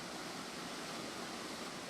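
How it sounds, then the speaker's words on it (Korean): Water falls steadily at a small forest waterfall near Songgye in Korea, a constant broadband rush of splashing with no pauses, close and moderately loud throughout. "폭포 옆에는 또 하나의 작은 폭포가 또 다른 모습으로 반긴다."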